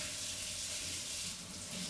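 Tap water runs steadily into a kitchen sink as hands are washed, producing an even, continuous hiss and splash at moderate loudness without voices.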